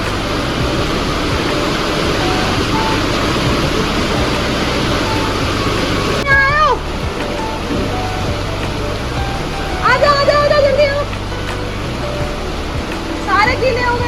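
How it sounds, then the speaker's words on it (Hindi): Heavy rain pours in a dense, steady wash of noise that fills the whole stretch, with a few brief voices rising over it near the end. "इतनी बारिश में आ गए"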